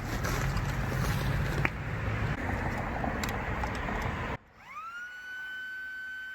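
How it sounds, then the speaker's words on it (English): An air pump inflates an airbed with a loud, steady roaring rush. It cuts off abruptly, then restarts as a rising whine that settles into a sustained hum. "I have to use my pump."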